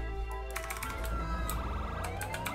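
An ambulance siren switched on in a video game wails steadily over a low engine rumble, with sweeping electronic tones and repeated clicks layered on top, loud and continuous.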